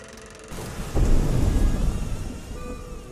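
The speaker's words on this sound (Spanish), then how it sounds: "Esa noche llovía." Rain pours steadily at night as a deep thunder rumble rolls in about a second in, swelling loud and then slowly fading under the continuing downpour.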